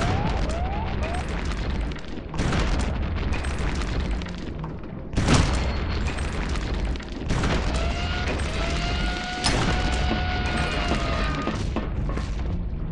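Grenade explosions in the shooter game Wolfenstein, several loud booming blasts among continuous battle noise and gunfire, with deep rumbling bursts at intervals and no talk.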